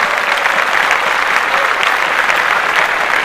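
Clapping on an urban hip hop podcast, a dense, even burst of hand claps lasting a few seconds without pause, close and fairly loud, with no voices over it.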